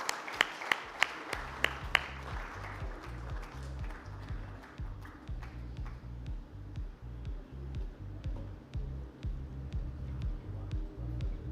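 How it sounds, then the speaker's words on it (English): Audience applause at an IADC conference session as speakers are welcomed on stage, starting with a few sharp claps and settling into steady clapping over a deep, throbbing musical beat that runs throughout. "let's have a huge round of applause as we welcome them on stage"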